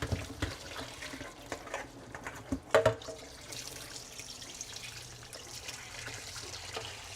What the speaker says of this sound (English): Gotta put hot water in it again.